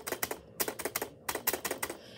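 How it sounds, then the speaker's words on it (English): Close, crisp typing on a computer keyboard, including its space bar: quick bursts of clacky keystrokes in groups of three to five, separated by brief pauses. "So this is what my keyboard sounds like at the moment."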